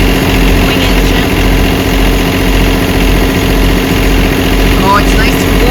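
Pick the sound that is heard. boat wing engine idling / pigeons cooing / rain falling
boat wing engine idling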